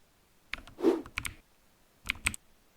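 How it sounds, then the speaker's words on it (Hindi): Keyboard typing sound effect laid into a kids' quiz video edit in CapCut: two short bursts of close, crisp key clicks, a few taps each, separated by a silent gap. "हमने पीछे से साउंड इफेक्ट खुद लगाया हुआ है, क्योंकि यहाँ पर तो टाइपिंग ख़त्म हो गई है"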